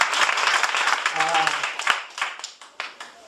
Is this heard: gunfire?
no